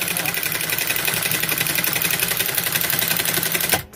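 A high-speed industrial sewing machine with a servo motor runs at full speed with its pedal pressed all the way down, a loud steady mechanical whir and rapid needle chatter that cuts off abruptly near the end.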